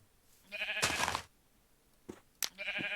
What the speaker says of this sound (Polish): Owca.